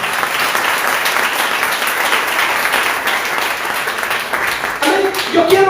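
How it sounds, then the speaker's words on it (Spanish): A church congregation claps hard and steadily in sustained applause, a dense wash of hands filling the room, with a few voices rising near the end. "fue para el Señor, que yo le dije denle fuerte el aplauso."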